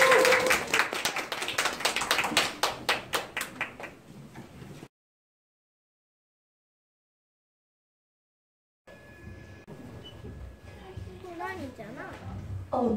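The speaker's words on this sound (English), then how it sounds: "Please welcome them with a big round of applause." An audience at a Disney-themed stage show claps in a fairly regular, rhythmic pattern for about five seconds, then a stretch of silence follows before voices and performance sound begin.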